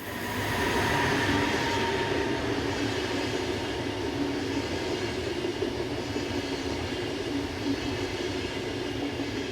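German Class 146 electric locomotive hauling an intercity train from Cottbus, passing with a steady, loud rolling rumble of wheels on rail and a faint high whine, continuous with no break.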